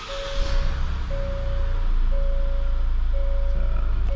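A 2019 Hyundai Palisade chimes as the ignition starts, a steady repeating tone sounding four times at even intervals over the low hum of the cabin and engine.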